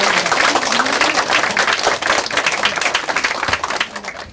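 Applause at a political party's second anniversary ceremony in Korea, a dense, loud crowd of clapping hands sustained throughout and tapering slightly at the end.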